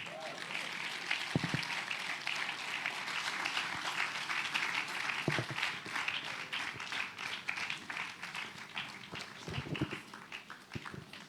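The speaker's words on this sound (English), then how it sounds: "Can we give another resounding round of applause for Pastor Favor Osiri Wisdom?" A summit audience gives a speaker, a pastor, a sustained round of applause: dense, even clapping from many hands that fills the whole stretch, with a few louder claps standing out.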